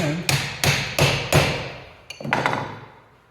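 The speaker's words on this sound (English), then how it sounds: "lock it in like that and hammer on the" A forged railroad spike tomahawk head is hammered onto its handle: four sharp metallic strikes in steady rhythm, then two lighter taps, close and loud with no talking.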